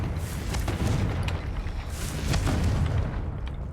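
Confringo blast spells going off in Hogwarts Legacy, a run of loud, rumbling explosive booms with sharper bursts near the start and middle, continuous and close with no voices.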